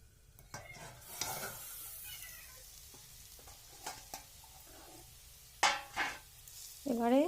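Potatoes frying in a covered pan, with soft sizzling and scattered stirring scrapes through most of the stretch, then louder clanks and a sharper hiss near the end; nobody speaks.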